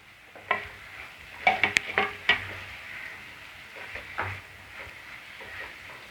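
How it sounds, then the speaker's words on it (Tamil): Chicken masala with tomatoes sizzling in a pan for chicken chukka, stirred with a utensil that scrapes and clinks a few times over a steady soft frying hiss. "கிளறி விட்டுப்போம்."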